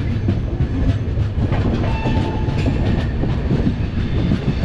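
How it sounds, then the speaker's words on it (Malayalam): A train passes through Alwar Junction railway station, a high-capacity parcel train carrying new cars, with a loud, steady rumble of wagons and rhythmic wheel clatter running throughout. "ഓ, ഇവിടെ ഒരു ട്രെയിൻ ഉണ്ട് കേട്ടോ"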